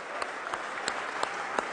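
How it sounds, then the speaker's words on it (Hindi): An audience in Bhopal applauds the women's hockey team at an honouring ceremony, in a short burst of steady, fairly distant clapping with a few sharper claps standing out. "जोरदार तालियां बजाइए, अभिनंदन कीजिए, स्वागत कीजिए"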